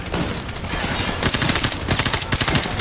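Automatic gunfire from Call of Duty: Modern Warfare Remastered rattles in a loud, sustained burst of rapid shots that grows denser toward the end, with no talking.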